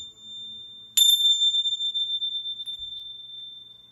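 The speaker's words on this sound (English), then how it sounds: "And then I got these beautiful little chimes." A set of small chimes is struck once and rings with a bright, sustained tone that slowly fades, heard close and alone in a quiet room.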